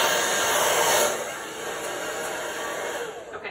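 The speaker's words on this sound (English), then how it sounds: "With the blow dryer, you're gonna blow that white right over the other colors." A hair blow dryer blows steadily and loudly, pushing white paint across other colours in a Dutch-style acrylic paint pour, a constant whooshing hum that eases slightly after the first second.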